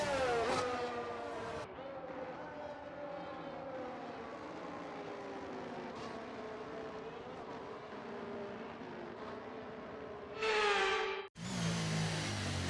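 Formula 1 cars on the formation lap at Shanghai in the F1 23 racing game, giving a steady, continuous engine drone that holds fairly even with a short brighter burst near the end and no talking.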